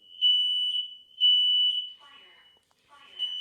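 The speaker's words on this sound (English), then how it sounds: "And I have a smoke alarm going" A smoke alarm shrills with loud, sustained high-pitched beeps in a steady on-off pattern, heard indoors during a radio interview; a voice speaks in the gaps between the tones.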